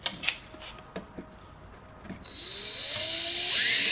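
A power drill bores a second hole for a custom air box on an R33 Skyline. A few light clicks and knocks come first, then the motor whines up and runs as a steady, rising close-up drone.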